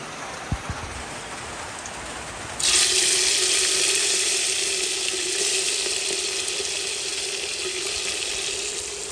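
Tap water gushes steadily and loudly into a basin as a bowl is rinsed in a home kitchen while chicken cooks in a clay pot, starting abruptly after a quiet moment and running without pause.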